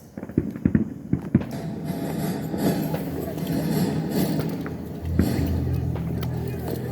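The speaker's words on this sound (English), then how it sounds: "This is the first firework that we shall be lighting on the 4th of July, 2022." Independence Day fireworks set off at a family gathering: a quick run of sharp cracks and pops near the start, then a lower rumbling hiss, with people talking nearby.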